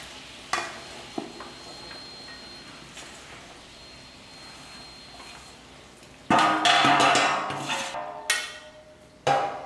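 Mango pickle mixture being stirred in a pan, with a few sharp clinks of a spoon early on, then loud scraping and mixing bursts later, close up and without speech.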